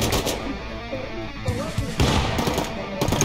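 Bursts of rapid gunfire in the video game Rust, sharp repeated shots in clusters, loud and close, with a few faint voice sounds mixed in.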